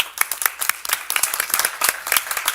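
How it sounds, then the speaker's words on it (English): A small group at a city council meeting claps in a sparse, uneven burst, individual hand claps close and distinct rather than blending into a roar. "would like to applaud that"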